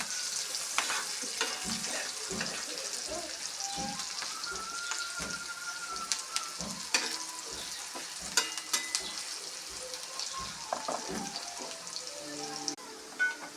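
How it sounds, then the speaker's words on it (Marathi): Onion and green chili with turmeric and salt fry in a pan, sizzling steadily up close while a spoon stirs with occasional scraping knocks, and no one speaks. "कांदा मिरची चांगले भाजून घेतलेले आहे."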